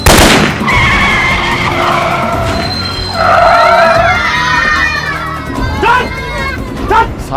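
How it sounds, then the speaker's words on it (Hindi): Car skidding after its tires are shot and punctured, a loud drawn-out tire squeal that wavers and rises over several seconds, with shouting voices and commotion mixed in. "सालों ने गाड़ी के टायर पंचर कर दिए।"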